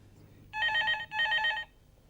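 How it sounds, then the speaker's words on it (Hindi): An office telephone rings in two loud, close electronic bursts with a short gap between them, then falls quiet, with no voices over it. "किसका फोन था मिस्टर माथुर?"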